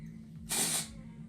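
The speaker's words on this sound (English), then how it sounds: "I'm gonna quickly spray into my roots." A single short hiss of dry shampoo sprayed into hair roots, close and crisp, lasting about a third of a second against a quiet background.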